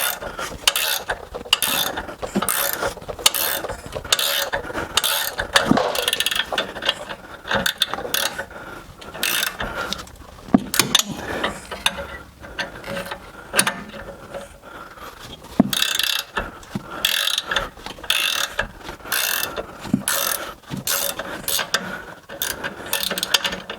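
Ratchet working rear brake bolts loose on a 2013 Mercedes C300, rapid repeated clicking bursts in steady strokes, close and loud, with brief pauses between swings and no talking.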